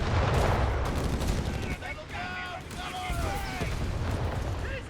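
A .30 cal machine gun fires in Company of Heroes 3, a dense rattle of battlefield gunfire with explosions layered in, while a commentator talks over the clamor.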